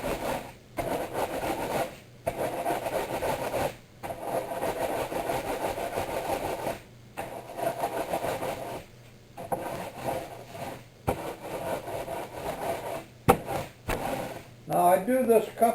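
Crackers are crushed by rolling over them inside a sealed bag, giving repeated rough rubbing and crunching strokes in bursts with short pauses, while someone talks over it.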